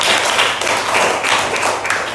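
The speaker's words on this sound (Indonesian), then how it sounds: "tepuk tangan." A group of pupils in an Indonesian school classroom clap their hands together, a dense, steady patter of close claps running for a couple of seconds without a break.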